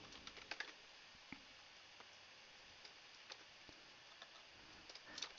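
Quiet, irregular clicks of keys being typed on a computer keyboard, in short bursts with pauses, over a faint steady hiss.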